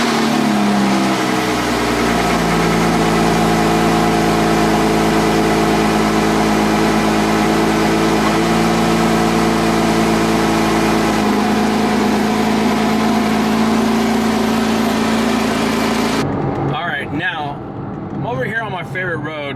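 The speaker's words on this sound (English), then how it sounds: "here is a cold start of my 2005 Porsche 987 Boxster" Cold-start idle of a 2005 Porsche 987 Boxster S running on high-octane fuel, a loud, steady flat-six drone with strong low harmonics that holds for about sixteen seconds, then someone talks briefly over the quieter engine.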